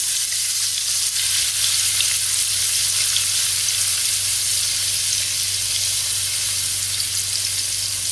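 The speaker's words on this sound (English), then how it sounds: "start frying them over a medium flame" Steady, continuous sizzling of garlic and ginger frying in hot oil over a medium flame, a bright crackling hiss with no voices, close and even throughout.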